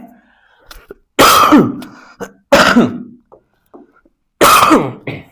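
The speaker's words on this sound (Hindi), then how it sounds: "खांसी भी बढ़ रही है।" Three loud, harsh coughing bursts spaced a second or so apart, with small throat noises and quiet breaths in between.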